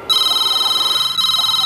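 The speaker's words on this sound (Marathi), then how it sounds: "तेवढ्यात त्यांना एक फोन आला" A telephone rings during a busy Mumbai day as a man boards a city bus in Ghatkopar, a steady electronic ringtone trilling loud and close, with one brief break before it carries on.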